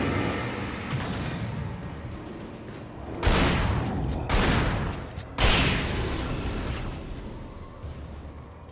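Gunfire from a shotgun and hunting rifle in the video game Alan Wake: heavy, booming blasts over a steady rumble, with two or three loud shots spaced a couple of seconds apart.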